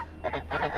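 A single guinea fowl, a lone hen living among chickens, gives a few loud, harsh honking calls in quick succession, close by and with no talk over them.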